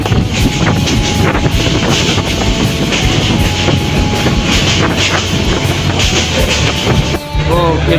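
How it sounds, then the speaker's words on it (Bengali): Howrah Express, running from Mohanganj toward Dhaka, passing through Gafargaon railway station as heard from another train's roof: a loud, steady rumble of wheels and carriages with wind buffeting throughout and a brief lull near the end. "এই স্টেশনে আমাদের একটি ক্রসিং পড়েছে, সম্ভবত এটা মোহনগঞ্জ থেকে ছেড়ে আসা হাওড়া এক্সপ্রেস ঢাকা যাচ্ছে"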